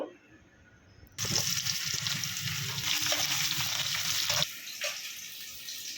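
A sudden burst of loud hissing sizzle as fish curry with aubergine hits hot oil, continuing steadily for a few seconds before cutting off abruptly.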